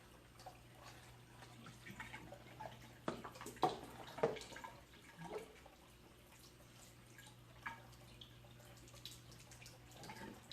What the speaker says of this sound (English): wash with tap water, both the outside and the inside